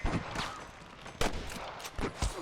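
Scattered gunshots from a Red Dead Redemption shootout ring out irregularly, about five sharp cracks spaced apart, some near and loud, others softer, over constant game ambience.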